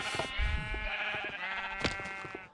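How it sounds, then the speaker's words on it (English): Several Minecraft sheep bleat loudly and close together in a quavering, drawn-out cry over a continuous background hum. "God, I hate sheep."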